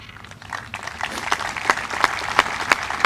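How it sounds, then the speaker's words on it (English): A small crowd gathered for a Memorial Day commemoration applauds, the clapping starting thinly and building into a steady round with a few sharp, close claps standing out. "I think they deserve a great round of applause for putting this together"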